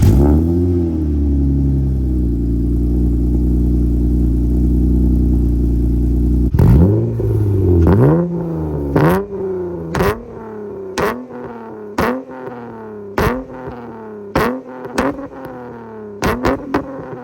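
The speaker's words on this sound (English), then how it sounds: "It's got a big Flowmaster Flow FX back here" An Acura TL engine idles with a low burbling rumble, then revs sharply again and again in repeated throttle blips through a loud, throaty Flowmaster Flow FX exhaust.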